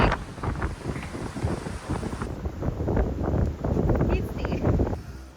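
Strong wind buffets the microphone at a high, exposed seaside spot in Malvan on the Konkan coast, roaring loudly and gusting throughout, with an indistinct voice partly buried in the rumble.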